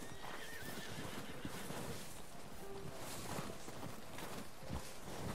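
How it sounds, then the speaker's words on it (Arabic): A horse whinnies and neighs in the open-world game Red Dead Redemption 2, with clip-clopping hooves and rustling ambience under it, loud and close over a continuous background. "الحصان"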